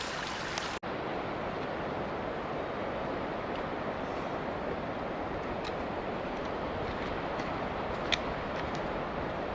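A steady, broadband roar of rushing water from a waterfall near Benson Pass on the Pacific Crest Trail fills the scene continuously, heard from nearby, with one sharp click early on.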